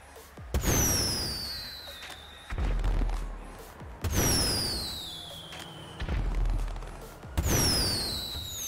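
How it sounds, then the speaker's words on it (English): Fireworks burst in GTA V, with four sharp booms arriving at irregular intervals of roughly one to two seconds, each followed by a descending whistling crackle that trails off before the next. "Fireworks!"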